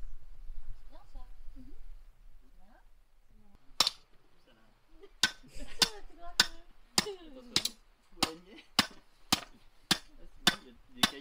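A hammer drives metal stakes into garden soil to hold fence netting: about nine sharp, evenly spaced blows ring out close by, following a stretch of low talk.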